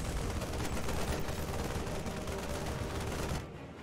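A StarCraft II SCV firing at a Protoss assimilator: a continuous rattle of small-arms fire, steady and fairly loud, cutting off abruptly near the end.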